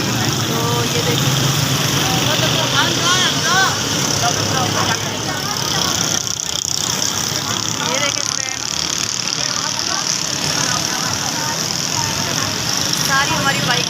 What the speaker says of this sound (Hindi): आप देख सकते हैं पीछे से भी रोड है, गाड़ियां चल रही हैं